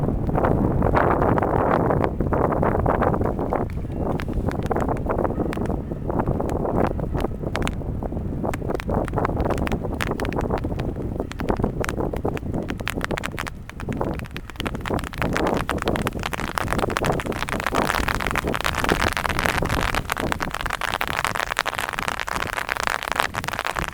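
Strong wind buffets the microphone continuously, a heavy low rumble with gusty rustling throughout and no voices.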